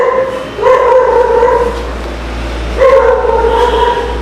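A dog gives two drawn-out, whining barks close by, each lasting about a second, over a low steady background hum at night.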